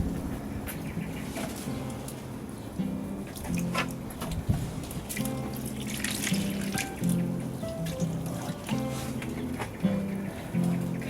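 Water mixed with liquid feed is poured and trickles onto a flowering cayenne pepper plant in July, with an uneven splashing dribble and a few soft knocks from the container.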